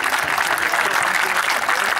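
Crowd applause at the opening of a basketball tournament, dense steady clapping filling the whole moment with no voice over it.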